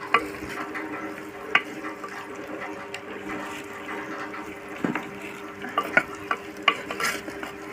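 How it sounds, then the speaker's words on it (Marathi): Thick-sliced onion is sautéed in a clay pot over a wood-fired stove for a prawn curry, giving a steady frying sizzle broken by repeated scraping and knocking from a stirring spoon, louder toward the end. "हा कांदा पण छान परतून घ्यायचा आहे"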